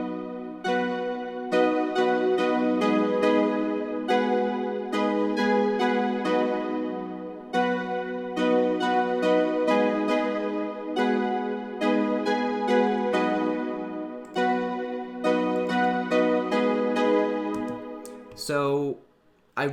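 Recorded guitar chords for a song built in Ableton Live, a sustained, rich strummed progression ringing continuously at steady loudness with repeated chord changes, ending in a brief warbling swell and cutoff.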